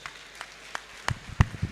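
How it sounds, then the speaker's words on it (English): Scattered applause from a conference audience after a keynote paper, a handful of separate claps that thicken toward the end, moderately near and fairly quiet. "Prof deserves a big round of applause."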